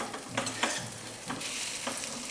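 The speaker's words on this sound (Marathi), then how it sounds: "हे दोडके आता आपण या तेलावर परतून घेऊया" Stuffed ridge gourd sautéing in oil with popped mustard seeds over a low flame, a gentle continuous sizzle broken by a few stirring scrapes, close and fairly quiet with no voices.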